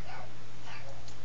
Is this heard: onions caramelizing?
no